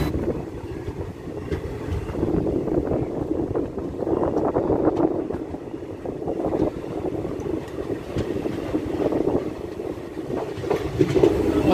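A train arrives at a station in Kerala, heard as a continuous low rumble and clatter of rolling railcars with faint rhythmic clicking, fairly close and steady throughout.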